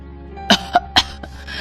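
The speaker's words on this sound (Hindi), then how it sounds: "बस थोड़ी खांसी है" An elderly mother coughs three times in quick, fairly close, dry bursts, then clears her throat faintly, with a quiet room behind.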